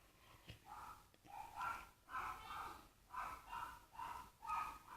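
A dog gives a series of rough, breathy barks or snorting huffs in a loose repeating rhythm, moderately close and fairly quiet, with gaps of low background noise between them.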